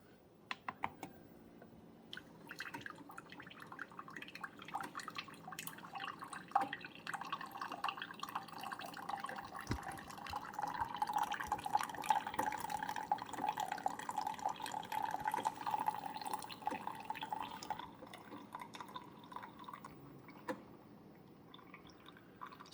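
A Keurig K-Supreme coffee maker brews 8 ounces through a reusable K-Cup of ground coffee, with a steady trickle and drip of liquid under a low pump hum, swelling in the middle before easing off.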